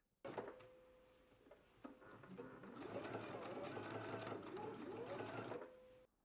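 Sewing machine basting the raw edges of a fabric spiral rose: a steady, fast mechanical whir running continuously for about six seconds at close range, starting and stopping cleanly.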